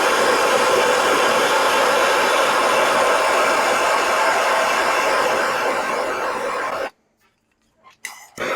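A torch flame heats a fitting on an aluminum line of a grill condenser under repair, a loud, steady close roar that cuts off abruptly near the end, leaving near silence and a couple of small clicks.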